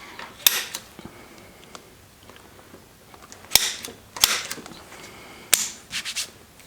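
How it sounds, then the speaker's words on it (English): A center punch tapped into wood at a workbench, several sharp isolated metallic clicks and knocks spaced irregularly over a faint quiet background. "Use my center punch again."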